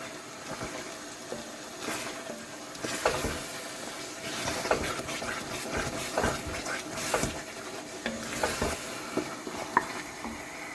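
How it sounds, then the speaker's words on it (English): Crayfish being tipped into shito, a Ghanaian chilli sauce, as it fries in a pan: a steady, moderate sizzle with scattered stirring clinks and scrapes, no voices. "So I'm gonna put my crayfish. The whole of that crayfish will go in there."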